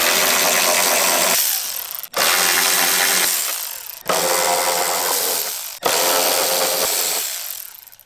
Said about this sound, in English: I'm going to use a Torx 40 bit to remove the 4 bolts securing the cowl in place